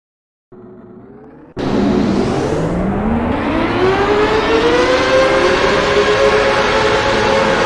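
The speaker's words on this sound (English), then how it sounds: "never heard Formula 1 cars start like that before" Simulated Formula 1 car engines fire up in the racing game NR2003 at a Shanghai race, a loud rising roar that swells and holds steady after a brief quieter idle, with no talking over it.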